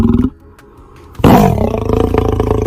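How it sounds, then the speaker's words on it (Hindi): A cartoon lion lets out a loud, close roar that bursts in suddenly and holds strongly, following a short stretch of background music. "तब शेर बहुत तेजी से दहाड़ लगाता है।"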